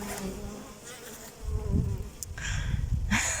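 Bees buzzing steadily close by, a droning hum that swells louder in the second half with faint higher whines.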